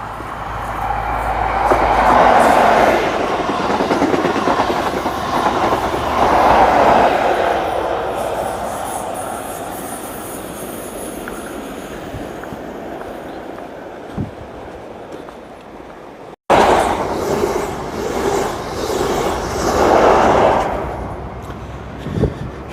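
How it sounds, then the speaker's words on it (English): A train runs through the cliff tunnel at Dawlish on the Devon coast, its broad rumble swelling and fading across the stretch with a loud nearby roar, then a sharp break and a second surge. "one more shot for you of a train going past through the tunnel"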